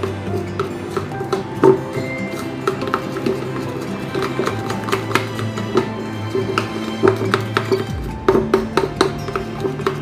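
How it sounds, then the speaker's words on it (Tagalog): Rapid, uneven clinking and tapping of a spoon stirring milk in a container, close and fairly loud, with a steady hum underneath and no talking. "Haluin natin"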